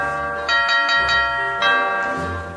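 A bell-like electronic chime rings several times in quick succession, then once more after a short pause, clear and fairly loud indoors.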